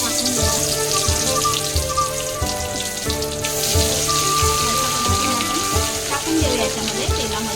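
Ground masala paste fries in hot oil with a bay leaf, a dense, steady crackling sizzle like heavy rain, loud and close, with faint background sounds.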